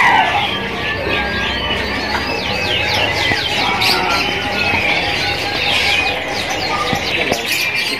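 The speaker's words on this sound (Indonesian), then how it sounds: "di sini tersedia juga untuk kenari AF yang gacoran" Many AF canaries trilling and chirping together at Pramuka bird market, a dense continuous chorus of bright overlapping song with chicken-like clucks and crowd noise mixed in.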